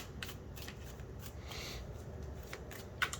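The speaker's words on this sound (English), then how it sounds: "I think I need to shuffle one more." Cards riffled and shuffled close by in a soft continuous flutter, ending with a sharp tap, no talking.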